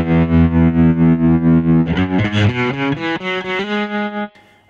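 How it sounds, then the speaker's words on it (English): An electric guitar fed through an overdrive pedal and then a tremolo pedal plays a loud, heavily distorted sustained chord followed by a run of pulsing, choppy notes that cut off abruptly. "You always get the distortion, because the guitar is feeding the overdrive first before it goes into the tremolo pedal."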